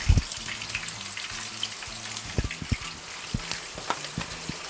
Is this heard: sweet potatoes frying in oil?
yes